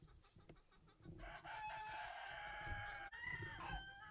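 Chickens cluck and a rooster crows close by in a backyard garden, layered calls over a quiet yard with a few scattered clucks at the start.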